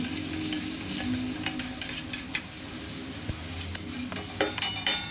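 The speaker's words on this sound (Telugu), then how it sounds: "ఇందులోనే క్యారెట్ బీన్స్ వేసుకునేసి తగినంత ఉప్పు వేసుకొని ఫ్రై చేసుకోవాలి" Carrots and beans being stir-fried with salt and turmeric, heard as steady close stirring with a spoon scraping and clinking against the pan over a faint sizzle.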